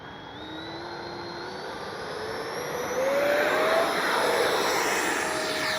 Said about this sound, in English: Take off from this direction.